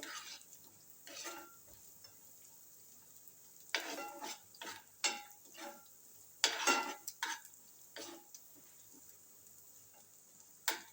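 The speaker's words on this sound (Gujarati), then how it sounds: "આમાં પાંચથી સાત જેવા મેં આ લીમડાના પાન લીધા છે એ આપણે અંદર નાખી દઈશું અને થોડીક વાર આપણે સાતરવા દેવાનો છે" Curry leaves sautéing in a pan for sabudana khichdi, giving scattered crackles and soft stirring scrapes in short irregular bursts, fairly quiet and close with no talking.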